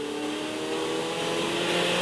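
A Ferrari 488 Challenge Evo accelerates hard on a racetrack, its engine note droning loud and steady from an onboard position with no pauses across the short stretch.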